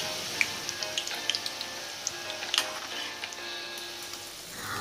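Mysore bonda, spiced batter balls, deep frying in hot oil, a steady dense sizzle with small pops and crackles scattered throughout, close and continuous with no talking.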